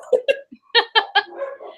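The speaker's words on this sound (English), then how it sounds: "And my dogs are barking." Several short barks from pet dogs indoors, a quick pair followed by a close, loud run of three and a softer trailing yelp, with a person speaking nearby.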